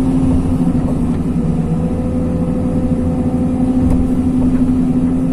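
Diesel engine of a Hyundai R220 excavator running at medium revs while grading dry clay: a loud, constant, droning hum with a steady low tone, close by, with no talk.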